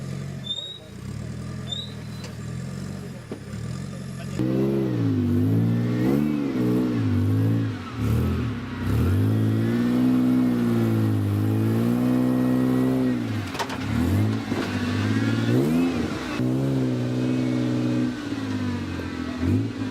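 Off-road 4WD vehicles grind over a rock section at an event, their engines revving and surging in waves and then holding in a low labouring drone. A commentator's voice runs over the engines for much of the time.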